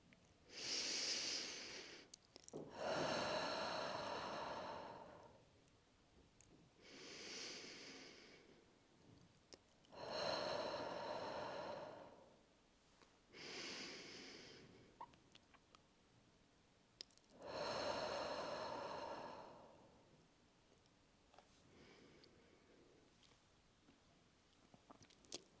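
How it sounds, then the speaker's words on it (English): Slow deep breaths repeat at a calm, regular pace, about six long airy inhales and exhales, close and quiet, separated by short silences. "Breathe deeply 3 times."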